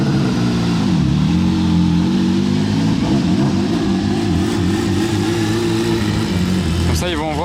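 Sports car engine, a model still in development, rumbling loudly in Monaco traffic with a dense low growl and wavering revs, steady throughout and close by, a sharp higher sweep near the end.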